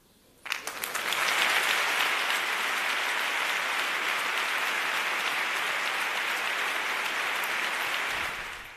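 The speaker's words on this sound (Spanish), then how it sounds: "Esa bonita ovación, esa bonita dedicatoria al periodista sevillano Fernando Carrasco, más que merecida." A long ovation from the audience at the 2016 Seville Holy Week proclamation, honouring the Sevillian journalist Fernando Carrasco: dense, loud clapping swells in quickly, holds steady for several seconds, then stops abruptly.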